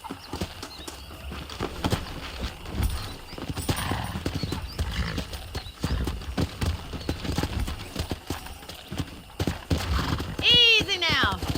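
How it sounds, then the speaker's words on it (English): Horses clip-clop over the ground in the Red Dead Redemption video game, with irregular hoofbeats, low rumbling movement and a sharp neigh near the end, while voices talk briefly in the background. "let's see if we can't wrangle some horses"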